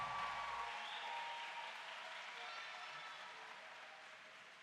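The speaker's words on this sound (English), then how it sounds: "A round of applause, please, for the 2022 group of graduates from the Caribbean Maritime University" An audience at the Caribbean Maritime University 2022 graduation ceremony applauds its graduates, a faint, distant wash of steady clapping that slowly fades.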